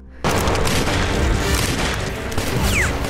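Gunfire and explosions from a World War II war film scene with German forces firing: a loud, dense barrage of booms and shots that runs continuously after a brief quiet opening.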